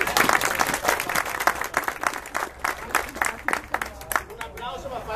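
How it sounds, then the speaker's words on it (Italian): Applause from spectators at a youth football gathering with a referee, a crowd clapping steadily for a few seconds with chatter and voices mixed in, the clapping thinning toward the end. "Noi facciamo un applauso anche a loro."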